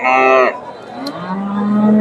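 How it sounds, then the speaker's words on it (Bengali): A Friesian bull at a cattle market in Bogura gives a loud, close, drawn-out moo, breaking off and then resuming as a lower, steady bellow. "ফ্রিজিয়ান জাতের সার গরু"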